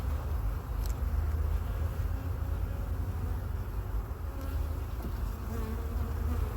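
Honey bees buzz steadily inside a hive that holds two bee colonies wintering together, split by a plastic frame divider; a dense, continuous drone close by, with no voices.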